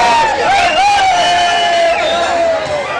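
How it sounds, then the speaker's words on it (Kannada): A crowd of fans outside actor Ambareesh's house chants and cheers in a dense, continuous roar of raised voices, with sustained shouted tones rising and falling across the clip. "ಆದ್ರೂ ಎಷ್ಟೋ ಹೊತ್ತಿನವರೆಗೆ ಅಂಬಿ ಮನೆಯಲ್ಲಿ ಮಂಡ್ಯದ ಗಂಡಿಗೆ ಜೈಕಾರ ಕೇಳುತ್ತಲೇ ಇತ್ತು."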